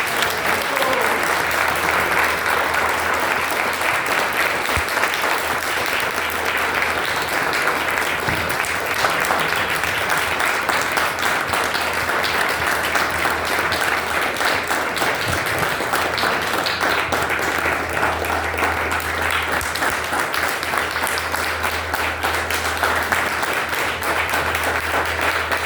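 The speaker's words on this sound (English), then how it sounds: "Let's give them a big round of applause." A large audience applauds the women's panel at the MAN-tra event, producing sustained, dense, loud clapping that holds steady without letup.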